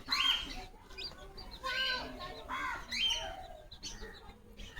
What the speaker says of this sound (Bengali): মুরগি বাচ্চাগুলো উঠেছে